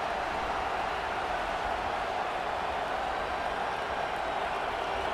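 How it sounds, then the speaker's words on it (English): A full stadium crowd roars during a Memphis vs. LSU game in College Football 25, a dense, unbroken wash of loud cheering noise with no distinct voices above it. "This crowd, full throat, splitting the eardrums and letting them know it's going to be a long day."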